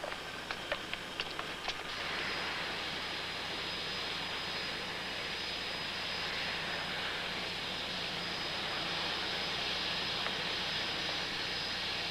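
An airliner departs on a flight to London from an airport gate, heard as a steady, broad engine roar that holds at an even level for most of the clip after a few brief clicks at the start.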